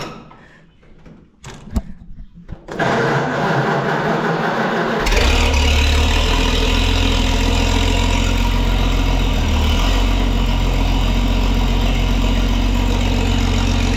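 A loud, steady tractor engine idles with a low rumble after a few clunks and rattles at the start, running continuously and close by.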